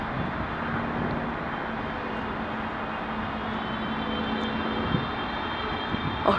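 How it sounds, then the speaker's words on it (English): A Boeing 787 jet airliner taking off at Dulles gives a broad, steady engine roar from a distance, holding level without pause. "Oh, here goes the 787."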